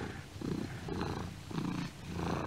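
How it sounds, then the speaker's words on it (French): A cat purrs steadily up close, its low rumbling pulses rising and falling in a slow, regular rhythm. "Ça ronronne et ça griffe."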